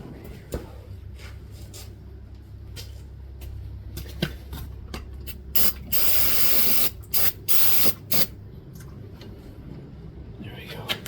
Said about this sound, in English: A little brake clean.